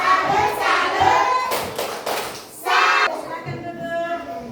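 Schoolchildren in a classroom clap a rhythmic salute chant, loud and close, with bursts of hand claps and thuds mixed with young voices calling out.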